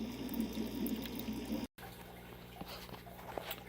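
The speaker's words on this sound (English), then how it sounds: "we're filling up the water, just running it in slowly" Water runs slowly into an aquarium tank as a faint, soft trickle with scattered small drips. It stays quiet and low throughout, broken by a brief silent gap.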